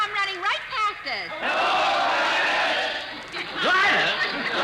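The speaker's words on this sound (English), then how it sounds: "listen to that crowd" Football crowd cheering at the Rose Bowl game, heard as a sustained roar of massed voices over several seconds, with spoken voices before and after, thin and band-limited like an old radio broadcast.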